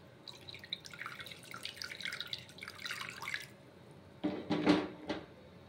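Water is added to a cup of sugar to make syrup, a soft close trickle and splashing with a brief louder pour near the end.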